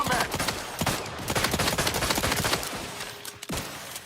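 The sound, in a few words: gunfire from video game The Outer Worlds 2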